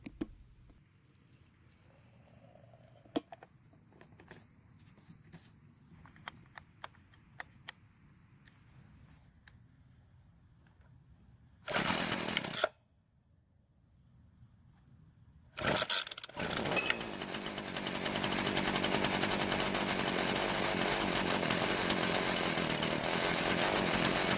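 A small two-stroke hedge trimmer bought at a garage sale, freshly refuelled after a repair: a few quiet clicks, a short sputtering start that dies, then it fires again and runs with a loud, steady buzzing drone.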